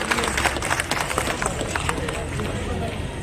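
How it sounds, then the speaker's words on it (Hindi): Dense, steady audience applause at a Mira festival cultural event, continuous clapping filling the hall without pause, fairly loud and close. "जोरदार तालियों से आप उनका अभिनंदन करें"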